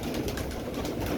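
Rooftop pigeons cooing in a dense, close, continuous murmur of soft overlapping coos, with no talking.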